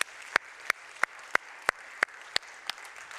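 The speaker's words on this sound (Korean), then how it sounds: "우리 한번 박수 한번 크게 하도록 하겠습니다" Church congregation clapping together for a celebration during a Sunday service: about nine sharp, evenly spaced claps in a steady rhythm, moderately faint against a quiet room hush.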